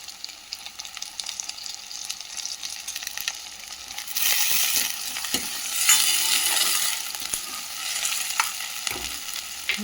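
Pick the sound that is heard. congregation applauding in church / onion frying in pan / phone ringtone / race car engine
onion frying in pan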